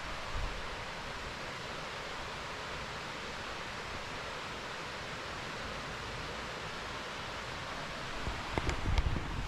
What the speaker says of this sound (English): I can hear the fall water.